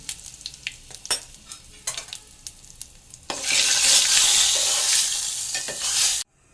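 Asafoetida hitting hot oil for dal tadka, a few light crackles and stirring clicks at first, then a sudden loud, continuous sizzle that holds for several seconds before cutting off.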